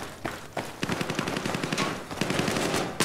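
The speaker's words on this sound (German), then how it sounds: "Irgendwie höre ich, dass sie überall rumgeschossen wird." Gunfire in the multiplayer video game Battlefield 4, with rapid machine-gun bursts and scattered shots rattling continuously at moderate loudness, no talk over them.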